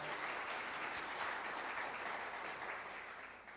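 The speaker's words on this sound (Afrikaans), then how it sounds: "Ek dink ons kan ons wel 'n hande klap gee." A church congregation applauds a couple's news of a new grandchild, a dense, even round of many hands clapping that holds steady and then slowly tapers off, with no voices over it.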